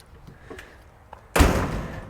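A shop's man door swings shut with one solid, close slam after a few faint taps, inside a newly built 24x30x12 shop.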